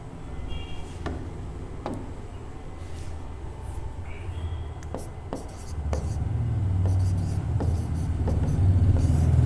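Chalk or marker scratches and taps on a board during a Hindi-medium Class 12 chemistry lecture: a string of short, sharp strokes over a steady low room hum, fairly close, with no one talking.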